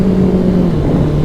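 A motorbike pulls hard along a wide, open road, its engine drone steady and loud from start to finish with a low humming pitch and no talk over it.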